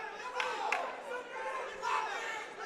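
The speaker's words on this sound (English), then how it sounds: "Some members of the crowd are barking things." Crowd members shouting and barking calls at a high school girls' wrestling regional final, a steady murmur of voices with a few louder yells rising above, heard at a distance in a large gym.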